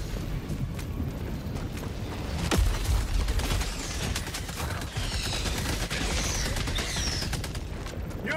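Helldivers 2 combat with a sentry gun opening fire, dense bursts of rapid gunshots and booms that keep going without a break and fill the scene loudly.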